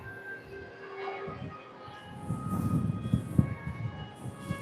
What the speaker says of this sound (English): 10 out of 10 for the monorail at Disney.